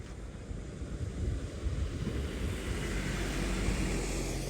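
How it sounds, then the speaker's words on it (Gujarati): Floodwater rushes after rain near a house in Gujarat, a steady, low, roaring wash that swells slightly and carries on without any talk. "અવાજ આવે પાણીનો"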